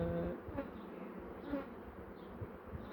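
Honey bees buzz steadily at a hive in Ardahan, a continuous close droning hum with a few louder passes near the start and middle.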